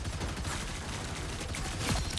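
Rapid gunfire crackles in the video game Marvel Rivals, a dense, continuous burst of shots at moderate level through the whole brief stretch.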